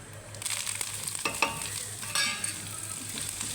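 Oil sizzles steadily as small onions and curry leaves fry in a pan for mutton curry, with occasional scraping stirs; close and continuous, no voices.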